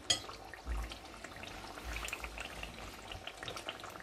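Corned beef stew simmering in a pot, a faint steady bubbling with soft low burbles and light crackle, quiet and close, with no talking.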